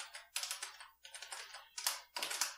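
Close bursts of keystrokes on a computer keyboard while a sudo command is entered in a terminal, three or four quick clattering runs separated by brief pauses, with no voice.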